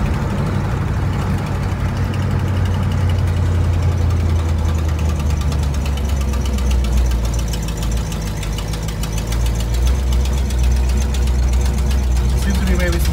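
A 1960 Cadillac hearse engine idles steadily with a loud, rough exhaust note from leaks, a constant low rumble with faint ticking that runs the whole time, with some talking mixed in.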